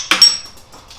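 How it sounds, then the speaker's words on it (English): A single sharp metallic clang rings out as a hammer strikes a piece of metal sheet to dome it, close and bright, followed by a brief fading ring and a faint softer tap. "I usually have to get a hammer to get this other side out"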